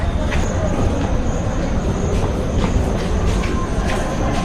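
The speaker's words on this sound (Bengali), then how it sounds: "এটা হচ্ছে আমাদের দুর্গাপুর রেলওয়ে স্টেশন" Steady rumble of a train with faint clattering and distant voices, loud and continuous throughout, like standing on a busy platform at Durgapur railway station.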